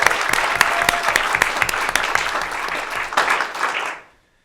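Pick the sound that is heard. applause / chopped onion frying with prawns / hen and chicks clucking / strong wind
applause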